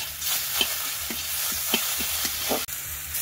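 Ginger, cumin and chilli paste frying in oil with onion, garlic and chilli powder, a close steady sizzle punctuated by soft rhythmic stirring scrapes, no speech.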